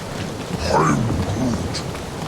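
Rain and rumbling thunder fill a scene in the Guardians of the Galaxy video game, a steady close downpour with a low roll of thunder and faint game sounds over it.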